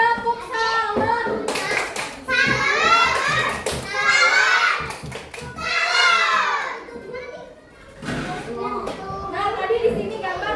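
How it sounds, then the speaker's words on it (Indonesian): Children clapping in an elementary classroom, rhythmic bursts of many small hands with energetic children's chanting and voices between, loud and close, pausing briefly near the end. "Tepuk tangan buat kelompok tiga."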